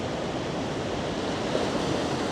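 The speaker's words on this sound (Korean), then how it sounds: "파도는 엄청 크게 치네요?" Large ocean waves crash on the shore in a continuous, dense roar of surf, loud and broadband, with no break and no voices.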